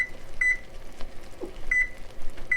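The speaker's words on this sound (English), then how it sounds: "I'm going to go ahead and hit a timer for 1 minute." A kitchen timer set for one minute sounds short electronic beeps, a pair near the start and another pair about two seconds later, clear over faint kitchen background.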